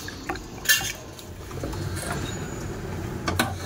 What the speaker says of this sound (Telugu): ఈ లోపైతే ఇక్కడ నేను కర్రీ కోసం వెజిటేబుల్స్ అన్ని కట్ చేస్తున్నాను.